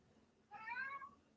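A single short cat meow indoors, faint and somewhat distant, rising clearly above a quiet background hiss.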